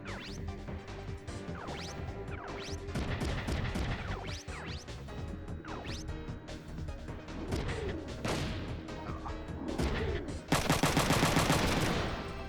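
Rapid rifle gunfire and crashing impacts in the game Front Mission 3, a dense, continuous run of shots and bangs that builds to a louder burst near the end.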